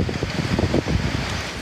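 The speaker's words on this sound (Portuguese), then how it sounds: "O morador da Zona Leste registrou o momento em que a ventania começou." A storm's strong wind gusts at up to 66 km/h through a city's east zone, with a dense, continuous roar and buffeting against the microphone that swells and eases without pause.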